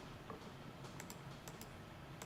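Faint typing on a computer keyboard, a few sparse, light key clicks spaced irregularly over quiet room tone.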